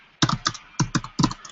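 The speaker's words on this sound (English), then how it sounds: "it's as simple as typing" Fingers tapping on a computer keyboard in quick clusters of two or three keystrokes, close and crisp, with short pauses between bursts.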